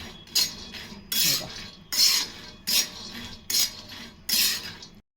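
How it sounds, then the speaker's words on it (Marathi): A metal spoon scrapes and clinks against a pan in six regular strokes as peanuts roast over low heat, close and fairly loud, with no talking. "शेंगदाणे ना मंद गॅसवर छान असे ना परतून परतून भाजायचे"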